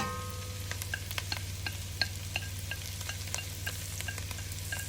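Pickled mustard greens sizzle and fry in a hot pot for Szechuan fish soup, a steady close crackle with scattered pops and light stirring clicks, no voices.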